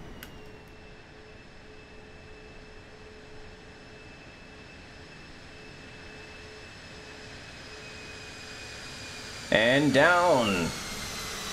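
An Airbus A320 airliner in Microsoft Flight Simulator lands with a steady engine hum, then a loud burst of thrust-reverser roar with sweeping tones near the end; a voice speaks briefly.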